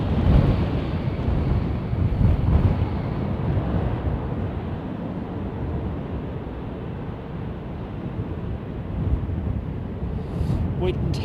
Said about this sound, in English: Wind has intensified